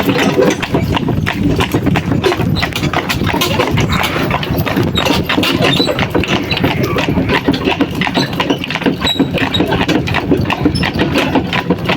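A harnessed pair of working horses, a stallion and a mare, clip-clop steadily along in a loud, continuous rhythm of hoofbeats, with an engine idling underneath throughout.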